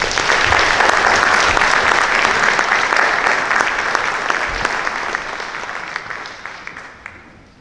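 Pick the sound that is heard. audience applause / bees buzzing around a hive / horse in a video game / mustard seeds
audience applause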